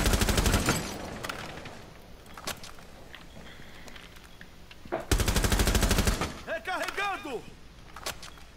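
Rainbow Six Siege gunfire crackles in sharp automatic bursts and single shots, with a dense burst at the start and another loud one midway, mixed with footsteps and game effects while players talk throughout.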